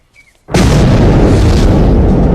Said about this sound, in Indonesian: ledakan bom tersebut menghancurkan kebun bambu